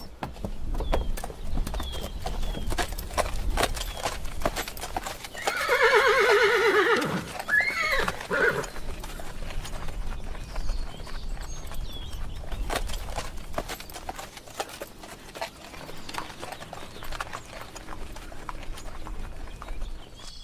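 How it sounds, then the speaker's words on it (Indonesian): Horses neigh and whinny in a yard being readied for a journey, with a loud close whinny in the middle and hooves clip-clopping faintly throughout amid outdoor background noise. "Kuda-kuda sedang dipersiapkan di pekarangan."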